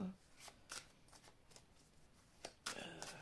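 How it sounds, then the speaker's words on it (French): A deck of tarot cards is shuffled by hand in quick riffling bursts, soft and close, with short pauses between the flurries and a louder final run. "il faut que je mélange mon jeu"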